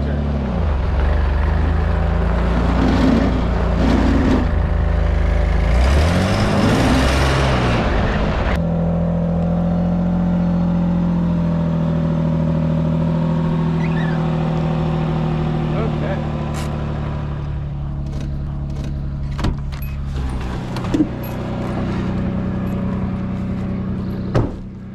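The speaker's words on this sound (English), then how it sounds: "She rubs a bit." Stock Nissan Pathfinder on 34-inch tires driving along, a steady low road and engine drone with faint intermittent rubbing noises, plus a few brief knocks near the end.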